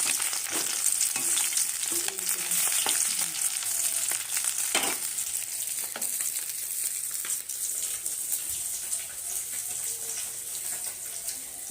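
Bengali fish curry with golden fish cooks in a pan, giving a steady close sizzle and frying hiss with occasional stirring clinks and scrapes, and no talking.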